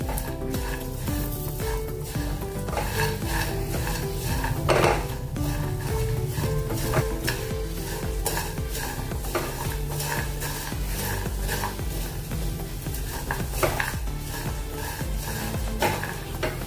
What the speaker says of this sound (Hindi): थोड़े से सूखे धने डालेंगे, सूखा नारियल डालेंगे थोड़ा सा। सभी को भुनेंगे अभी।